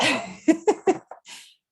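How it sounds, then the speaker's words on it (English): A short burst of breathy, explosive sounds like a sneeze with its lead-up gasps, close and fairly loud, then a soft exhale. "I'm going to sneeze"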